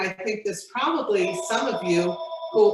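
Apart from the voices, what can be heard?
phone ringing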